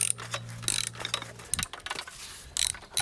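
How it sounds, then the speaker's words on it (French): Spring compressor unscrewed by hand while replacing car shock absorbers, close ratcheting clicks in quick bursts with pauses, plus a brief metallic clunk. "Voilà, je dévisse."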